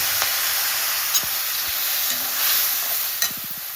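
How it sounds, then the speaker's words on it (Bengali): Spice paste tipped into a hot pan for a pumpkin-stem kalia, frying with a steady hiss and a few sharp clatters of stirring near the end, close by and with no talk. "এখন আমি দিয়ে দিচ্ছি এই যে গুলে রেখেছিলাম মশলাটা।"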